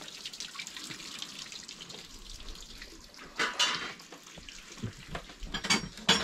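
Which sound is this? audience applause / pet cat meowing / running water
running water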